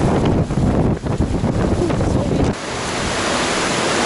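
A river, a tributary of the Ganga, flows beside a hiking trail in the Himalayas on the Annapurna circuit, a loud steady broadband rush with wind buffeting the microphone during the first half, then settling into an even roar.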